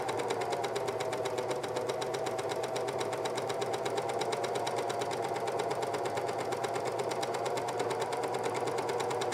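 A sewing machine runs at a steady, even pace while stitching the hem of a Sydney Dress from 5 out of 4 Patterns, a close continuous buzz with no pauses and no talk.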